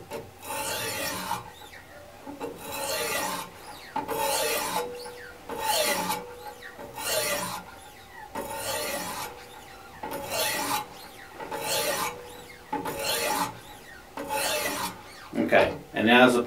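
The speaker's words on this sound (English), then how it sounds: "Now to create a burr, I'm going to focus on one side at a time, and I'm going to do 10 strokes on this side." Knife sharpening strokes on a Wicked Edge WE50 guided sharpener, about ten even rasping passes against the abrasive in a regular rhythm, close and clear with no talk, a slightly faster pair at the end.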